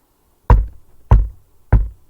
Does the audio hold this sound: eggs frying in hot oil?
no